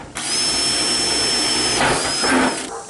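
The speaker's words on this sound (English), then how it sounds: "Drill out the holes." A power drill runs steadily, boring holes into a 55-gallon drum, its high whine sustained close by before briefly bogging and revving again near the end.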